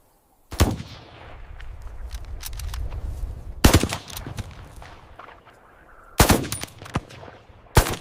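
Several loud gunshots ring out during a wild buffalo hunt in the Masai Mara, Africa: a sharp report early, another about three seconds later, then a pair near the end, each with rolling echo over outdoor rumble.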